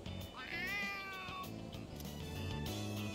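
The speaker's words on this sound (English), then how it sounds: "Oh, a kitty cat!" A stray cat in the video game Persona 3 Reload gives one clear, drawn-out rising and falling meow, close and fairly loud, followed by softer ambient game sounds.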